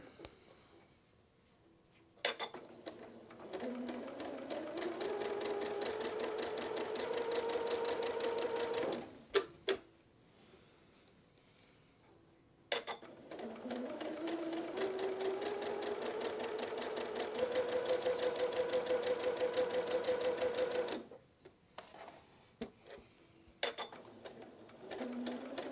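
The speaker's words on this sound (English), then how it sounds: "let's sew them up." A sewing machine stitches quilt block pieces in two long, steady runs separated by short pauses, its motor hum rising in pitch as it speeds up, close and clear with no talking.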